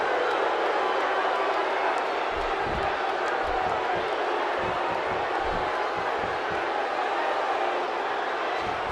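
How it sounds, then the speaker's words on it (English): A crowd roars and cheers steadily through a wrestling video game match featuring Seth Rollins, a dense continuous wall of arena noise with thumping impacts underneath and commentary voices over it. "by the sound of this crowd, I think they're getting what they wanted."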